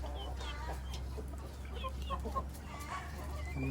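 Backyard chickens and an Indian crossbreed rooster peck at purslane, their soft clucks and chirps scattered over a steady low hum, with no one talking.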